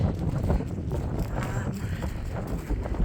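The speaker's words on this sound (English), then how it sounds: "the wind is just crazy tonight" Strong wind on a sheep farm at night, a steady rushing roar buffeting the microphone throughout, with no talk over it.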